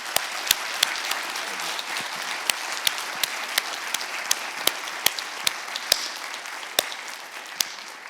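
A crowd gives sustained, even applause for gallery staff, with dense clapping from many hands and a few sharp, louder individual claps standing out throughout.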